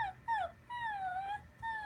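A person imitates a dog's whimper, with a few close, high, wavering whines that rise and fall in short, plaintive bursts.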